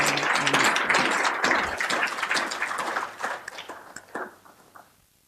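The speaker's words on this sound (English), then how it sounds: "give a big round of applause to the Honorable Minister" Members of a rural women's parliament applaud a minister with dense, sustained clapping that thins to scattered claps and fades out near the end.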